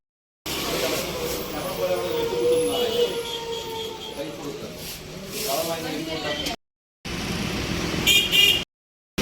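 A vehicle pulls up outside a wedding hall amid an outdoor crowd, with horn toots and engine noise mixed under nearby voices and the sound cutting out briefly twice.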